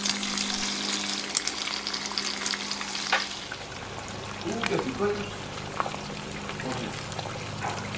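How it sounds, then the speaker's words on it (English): Eggs sizzle and crackle in hot bacon grease, a steady close frying hiss with bursts of stirring and spattering, while a person talks over the cooking. "Here's the bacon grease. I'm going to pop our eggs in here."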